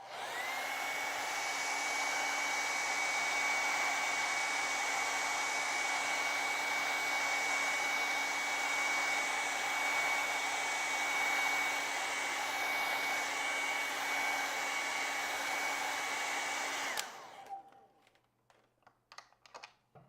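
A hair dryer blows steadily and close for about seventeen seconds while drying layers of acrylic paint on a Halloween painting, then switches off, leaving faint clicks and handling noises.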